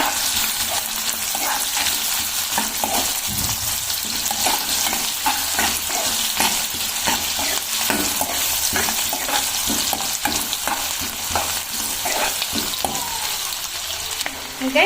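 Ginger garlic paste and curry leaves fry in hot oil for pav bhaji, giving a steady close sizzle broken by repeated stirring scrapes in the pan.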